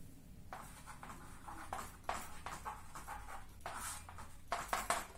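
Chalk or marker writing on a board during a physics lesson on electromagnetic induction, quiet irregular scratchy strokes in short bursts with small pauses between them.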